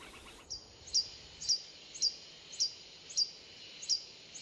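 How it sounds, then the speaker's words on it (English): An Ecuadorian long-billed hermit hummingbird gives an insistent song of sharp, high chirps, about eight of them evenly spaced roughly every half second, close and clear against a quiet background. "Some males like to announce their presence with a song, like the insistent chirping of this Ecuadorian long-billed hermit."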